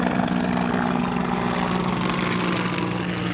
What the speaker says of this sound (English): Oh, look, the helicopters are zoom.